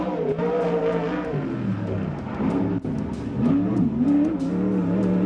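A 360 sprint car races around a dirt track at sunset, its engine roaring steadily and loudly, pitch rising and falling through the corners with no voices.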